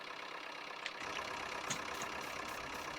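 A loader tractor engine idles at a distance, a faint low steady drone that grows slightly fuller after the first second, with a few small knocks and clicks over it.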